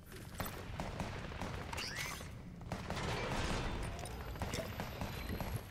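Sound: gunfire in Fortnite video game

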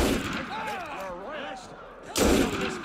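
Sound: gunshots in the video game Assassin's Creed Unity

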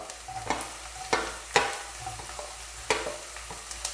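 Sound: green chilies stirred and frying with ginger and garlic

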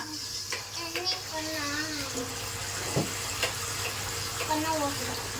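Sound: water running from a tap

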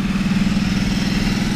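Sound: Ducati Multistrada motorcycle engine

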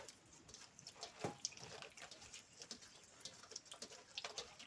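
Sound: washing mandeli fish in clean water

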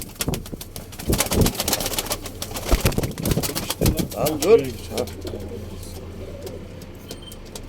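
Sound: pigeons cooing in coop

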